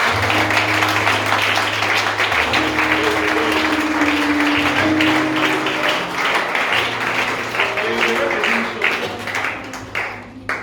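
A church congregation at a night vigil applauding loudly and continuously, dense sustained clapping over held organ or keyboard chords, tapering slightly at the end.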